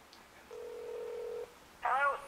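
A telephone call placed on speakerphone gives a steady electronic tone for about a second, then a brief warbling ring signal, small and tinny against a quiet room.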